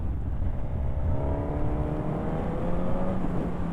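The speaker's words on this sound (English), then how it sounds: "it's all about that acceleration. Here we go, third gear." A Suzuki GSX-S950 motorcycle pulls hard in third gear, its engine note climbing steadily under constant rushing wind noise. The sound stays loud and close throughout.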